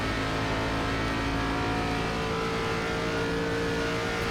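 An ARCA race car engine in iRacing drones loud and steady at sustained throttle, with a constant harmonic roar and no talking.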